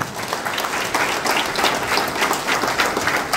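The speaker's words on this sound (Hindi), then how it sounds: "सबके लिए एक बार जोरदार ताली हो।" Attendees at a life-changing seminar in Ranchi applaud honorees in a hearty, sustained round of clapping from a large crowd, steady and fairly loud throughout with slight swells.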